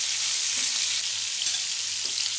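Lemon chicken tikka fries on a tawa over high heat, giving off a steady, close hiss and sizzle with soft crackles throughout and no voices.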